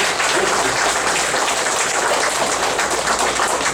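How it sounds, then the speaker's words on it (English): A crowd at a spiritual meditation gathering breaks into dense, sustained applause, many hands clapping steadily and loudly throughout without pause. "Give a big clap for meditation."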